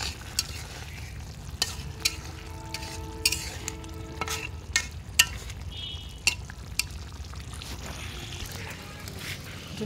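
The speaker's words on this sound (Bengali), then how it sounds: "এই যে আমি মাছ ভুনা করতেছি।" Fish bhuna frying in a pan, with a low, steady sizzle broken by repeated sharp clinks and scrapes of a utensil stirring at an uneven rhythm, and no talking over it.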